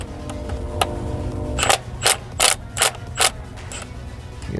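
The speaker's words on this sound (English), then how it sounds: "We have to loosen the tensioner back up again" A timing belt tensioner on a 1985 Merkur XR4Ti being released, giving a series of four or five sharp mechanical clicks and snaps at a steady rhythm, close and fairly loud over a low background hum.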